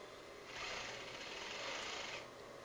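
A sewing machine sews a short safety stitch to hold an invisible zipper in place, a soft, quiet whirring run of about two seconds against a faint background, with no talking.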